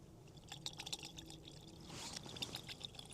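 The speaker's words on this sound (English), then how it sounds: "Got my bottle of water, which I need a little bit of to clean this out from earlier." Water from a bottle is poured into a frying pan at a camp, a quiet, close splashing trickle that comes in short uneven spurts with no speech.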